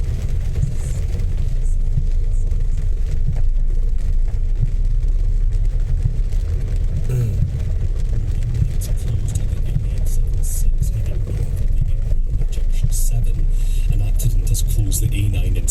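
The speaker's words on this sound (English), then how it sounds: "The thumping, the thumping big trucks going up and back down" Heavy trucks rumble steadily along a road, a continuous deep low-frequency drone of traffic that stays loud throughout, with faint talk in the background.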